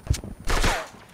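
Sniper gunfire in the video game Fortnite: a short burst of sharp, loud shots fired close together, with a brief trailing whine, heard alone.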